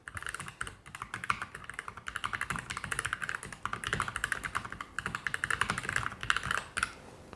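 Fast typing on a Keychron K17 Max wireless mechanical keyboard fills the clip: dense, slightly clicky keystrokes in a near, continuous rapid rhythm with no talk.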